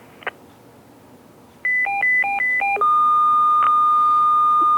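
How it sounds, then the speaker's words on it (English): Paging tone-out tones from a Uniden BCD436HP scanner: a quick alternating two-pitch beeping sequence, then one long steady tone, loud and clear over a faint hiss. "This is a tone test on 575."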